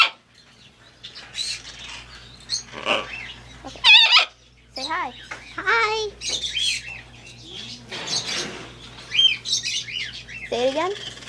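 A parrot kept with a toucan makes a loud, varied run of squawks, whistled calls and speech-like imitations of human words, with bursts close together and brief gaps, alongside people talking nearby.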